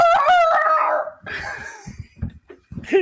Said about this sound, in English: That dog's like down the street.